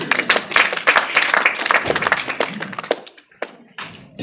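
A church congregation at a ministers and leadership conference in Italy claps in a loose, uneven rhythm, sharp close hand strikes and thumps for a few seconds before thinning out into scattered claps.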